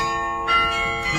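Two bell tones strike in quick succession over a sustained ringing wash of carillon tower bells played by the automaton before the half-hour strike in Amsterdam, resonant and moderately loud, with no voices.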